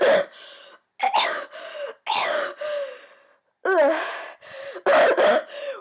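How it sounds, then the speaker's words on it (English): A woman coughs and gags in repeated harsh bursts, hawking up liquid from her throat, close and loud with short gaps between fits. "Serenity wiped the condensed gas droplets off of her face and coughed herself into a slight gag, hawking up some of the green liquid"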